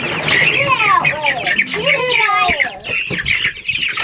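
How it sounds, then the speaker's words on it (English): Golden comet hens clucking and squawking up close on a homestead, a busy run of rising, chattering calls with brief pauses. "So right here we've got a golden comet hen, or a golden comet pullet"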